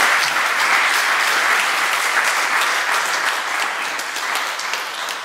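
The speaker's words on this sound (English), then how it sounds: "Give some round of applause to the panel at this point." Conference audience gives a panel a round of applause, with full, even clapping sustained throughout and tapering slightly toward the end.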